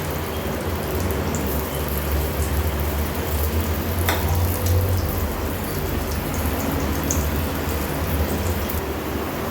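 Cabbage vada dropped one by one into hot oil, giving a steady crackling sizzle throughout with a brief louder burst of bubbling near the middle; no one speaks.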